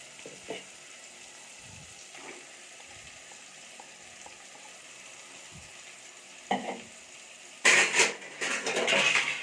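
Faint sizzling of ginger, garlic, coconut, fennel and poppy seed masala paste in a pan with occasional soft scrapes, then louder stirring and sizzling bursts as crab is added near the end.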